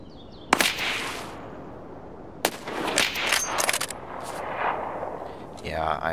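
Video game gunfire: a few sharp, loud shots, single cracks and short clustered bursts, ringing over a steady game ambience, with a brief voice near the end.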